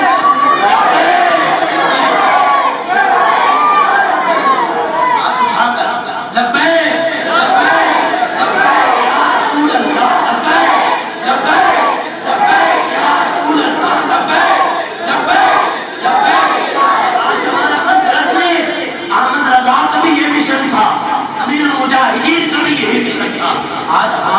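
A large, loud crowd at a religious gathering chants slogans in unison, with steady massed voices rising and falling throughout in rhythmic waves of call-and-response.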